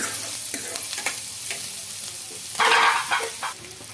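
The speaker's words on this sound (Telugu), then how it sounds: "ఇవి బాగా కొద్దిగా గోల్డెన్ కలర్ అయితే రావాలండి ఆనియన్స్ అయితే వచ్చేంత వరకు మనం ఫ్రై చేసుకోవాలి" Onions frying toward golden in a pan, a constant close sizzle with repeated stirring scrapes and clinks, swelling into a louder burst of hissing partway through.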